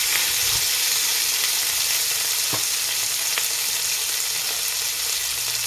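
Onions fry in a pot for a vegetable stew, giving a constant close sizzle and hiss with occasional scrapes and taps of stirring, no speech.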